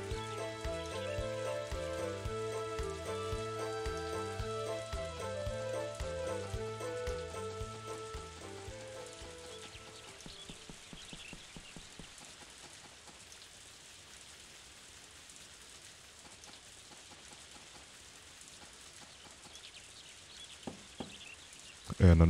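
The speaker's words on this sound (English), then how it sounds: "the cutscene can't happen during the rain" Rain falls in the video game Harvest Moon: game music plays for the first ten seconds, then a steady, soft patter of rain continues on its own to the end.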